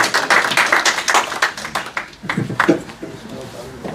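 Audience applause at a mushaira in Ealing, welcoming a poet to the stage. A burst of clapping mixes with voices, then thins out into scattered claps and talk.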